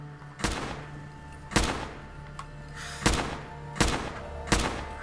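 Laser turret in Fallout 4 firing five sharp, evenly spaced blasts, each a bright crack with a short tail, over a low steady game hum.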